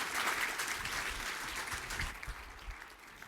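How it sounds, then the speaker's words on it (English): A summit audience applauds award recipients with a full, sustained burst of clapping from many hands that gradually thins and softens toward the end. "A huge round of applause for our Thea Award recipients."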